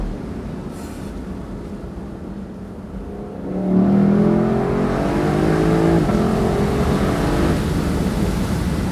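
A deep V8 engine of a 2024 Lexus LC500 rumbles, then swells as it revs up and holds a loud, steady roar with no talking.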